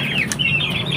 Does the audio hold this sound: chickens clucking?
yes